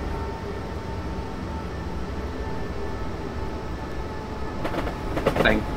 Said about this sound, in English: This train's not going to slow down in time, I might have to apply the brakes